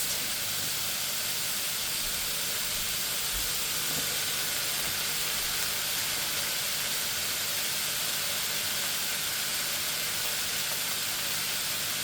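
Chicken and vegetables sizzle in a stir-fry pan as carrots go in, a steady, unbroken hiss of frying that holds at an even level for the whole stretch with no voices.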